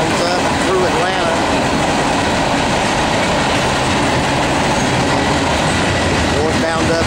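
A Norfolk Southern manifest freight train, NS-118 northbound on the Piedmont Division, rolls steadily past up close with loud, continuous wheel rumble and clickety-clack from its cars as the rear goes by.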